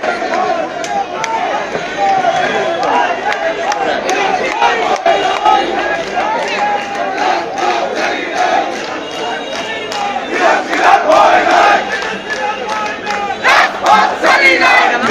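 A large crowd at a BNP political rally in Munshiganj chants slogans in loud, rhythmic unison. Steady mass shouting and cheering fills the space throughout, with sharp claps or thumps scattered through it.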